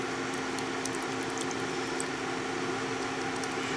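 A pan of ketchup sauce thinned with water simmers with a constant, dense bubbling and sputtering hiss, steady and moderately loud, with no voices over it.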